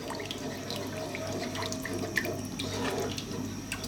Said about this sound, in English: What we're going to do now is get in some stock or broth or whatever you want to use